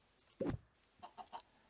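Clucking from a chicken in the video game Minecraft: one louder squawk followed by three short, evenly spaced clucks, close and clear with no talking.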